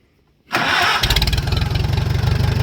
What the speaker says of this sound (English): Tractor's in 1st gear. I'm going to start the tractor,